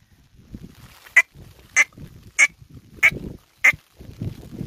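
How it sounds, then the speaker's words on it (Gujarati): A peacock calls in Gir during rain, five loud, sharp honking cries spaced about half a second apart over a faint rumble of background noise. "મોરલો મારો વાલેડો બોલો"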